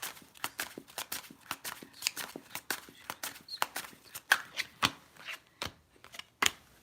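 Tarot cards being shuffled, a rapid run of crisp paper flicks and riffles in an irregular rhythm, close and fairly quiet, with no talking.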